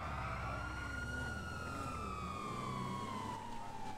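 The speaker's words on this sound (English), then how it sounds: "I hear the sirens. Is that y'all?" Police sirens wail steadily in a role-play video game, one long sweeping tone heard at a distance over a low rumble, with no voices.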